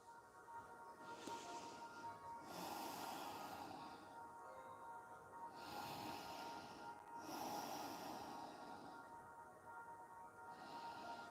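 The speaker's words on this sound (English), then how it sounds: "Breathing through your nose." Slow breaths drawn in and out through the nose during a yoga balance pose, soft airy swells rising and falling in a few long cycles, quiet and close.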